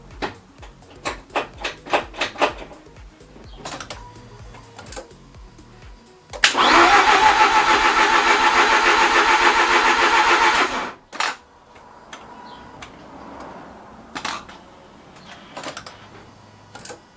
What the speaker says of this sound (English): I'm going to try and turn it over a couple of times, try and get the oil to pump round